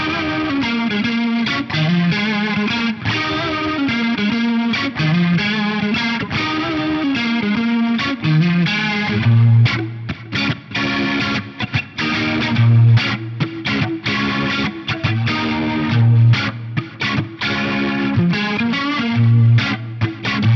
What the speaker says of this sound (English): I've just added a rotary block in front of it. So this can be a really cool way to get like a faux keyboard or organ sound out of your guitar.